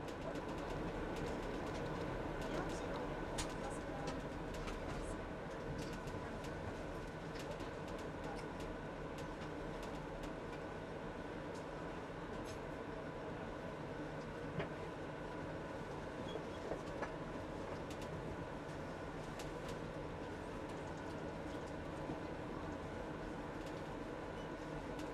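Bergen Railway train rolling steadily into Geilo station in Norway, a continuous close rumble of wheels and carriage noise with faint rail clicks throughout, no talk.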